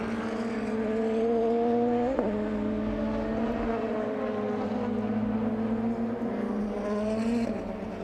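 DTM race cars run a free practice session at the Nürburgring, a loud sustained engine drone that rises and falls as they pass, with a sharp gear change or two and a steady howl carrying across the track.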